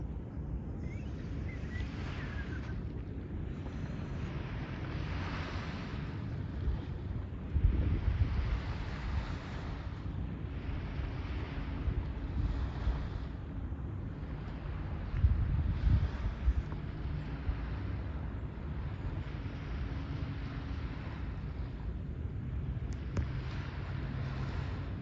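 Low, steady rumble of ocean waves and water under gusting wind on Cape Cod in December, with a few louder surges; no voices.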